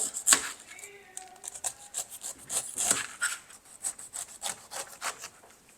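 Knife slicing through a whole pineapple on a cutting board in a home kitchen, a run of rough, scraping strokes that come close and fairly loud, with no talk over them.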